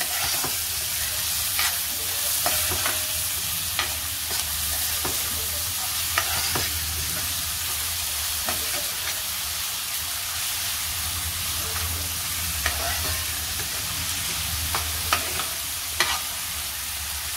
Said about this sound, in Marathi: आता कांदा घालायचा आहे, कांदा परतून घ्यायचा आहे आपल्याला।